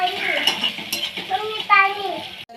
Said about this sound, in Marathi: टमाटे टाकलाय तर आपण आता मिक्स करून घेऊया व्यवस्थित